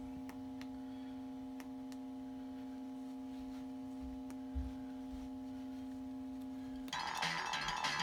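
The left speaker of a Data East WWF pinball soundboard plays a faint, steady test tone under occasional soft ticks, then switches abruptly to a brighter, noisier burst near the end.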